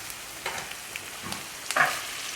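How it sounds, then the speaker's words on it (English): Pasta tossed with garden parsley and blanched broccolini sizzles softly in a pan, a low steady frying hiss with scattered stirring clicks and a brief louder scrape near the end. "And mix all that through"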